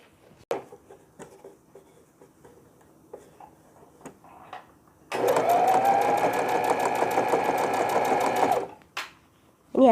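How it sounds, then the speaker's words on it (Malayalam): A sewing machine runs steadily for about four seconds, stitching around the edge of a baby pillow filled with mustard seeds. The whirring is loud and close, set against quiet handling noises before it starts and after it stops. "സൈഡിലോട്ട് ഒരു ഫുട്ട് വിട്ടിട്ട് ചുറ്റും സൈഡിലോട്ട് സ്റ്റിച്ച് ചെയ്യുക."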